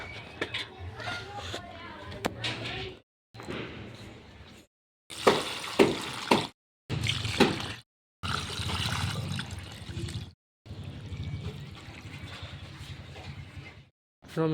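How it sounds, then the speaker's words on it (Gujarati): Water poured from a container onto potted plants, including a rose, at home during Diwali. It comes as several separate close splashing bursts with short silent gaps between them, and faint voices may sound alongside. "તો મિત્રો હવે આપણે પાણી બધાને પાઈ દીધું છે."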